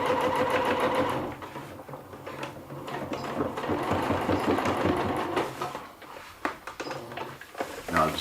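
A sewing machine hems a silpoly rain skirt past a tacked-on shock cord, humming continuously up close before slowing into shorter uneven bursts and stops near the end.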